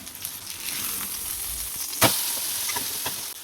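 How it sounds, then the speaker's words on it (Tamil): Fish fried in oil in a pan, a steady bright sizzle throughout with a sharp crackle and spatter burst midway as it is turned, then continuing evenly. "2 பக்கமும் நல்லா பொரிச்சு எடுத்துருவோம்"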